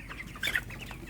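Broiler chickens about 25 days old in an open raised coop, one brief, faint cluck over a low background hum.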